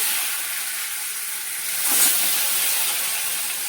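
Peeled boiled eggs fry in hot oil in a home kitchen pan, giving a steady close sizzling hiss that swells briefly around the middle as the eggs settle in.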